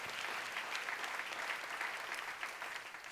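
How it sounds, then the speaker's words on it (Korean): Steady audience applause in a church seminar hall during a sermon on the Psalms, a dense continuous wash of many hands clapping at moderate distance with no voices over it. "박수로 나와주시면"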